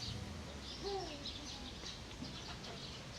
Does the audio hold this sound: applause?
no